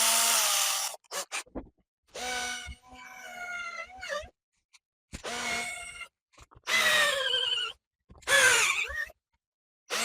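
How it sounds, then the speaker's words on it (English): A small-diameter drill bit bores into a wooden guitar headstock in several short whining bursts separated by silent pauses, each burst rising in pitch and then tailing off as the bit bites into the wood. "Let's start with a smaller diameter drill bit."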